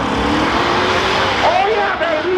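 A 1969 Ford F250 crew cab truck on the road, a steady loud engine and road rumble heard from inside the cab, with people talking over it.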